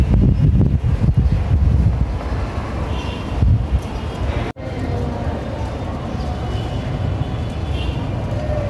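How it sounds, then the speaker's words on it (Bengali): Wind gusts blowing steadily outdoors during light drizzle on a rural homestead with tin roofs and mango trees, a loud continuous rush with buffeting against the microphone and a brief dropout midway. "এই যে শুধু বাতাস আর বৃষ্টির কোনো খবর নাই, টিপটিপ করে বৃষ্টি পড়তেছে।"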